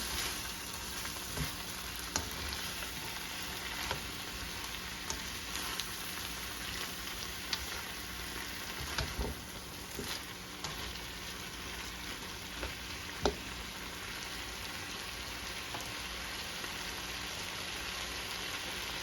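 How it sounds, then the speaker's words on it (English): Pepper steak fries and gets stirred in a pan, a continuous crackling sizzle like light rain, with occasional soft scrapes and taps of the spoon, steady and moderately quiet without speech. "You're going to stir all of this around so everything can be coated evenly all the way around."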